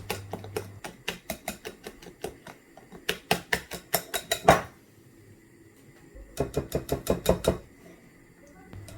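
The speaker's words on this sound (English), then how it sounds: "So continue mixing, whisking until stiff peaks form." Whipping cream being whisked by hand to stiff peaks for a no-bake Biscoff cheesecake: fast, rhythmic tapping and clattering of the whisk against the bowl in two bursts, separated by a short pause, with no talking.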